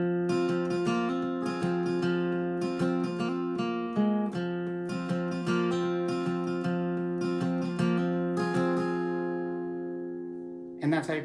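Acoustic guitar plays the intro chord progression of a song, steady rhythmic strumming up close with ringing chords, slowing and fading at the end before a final brief strum.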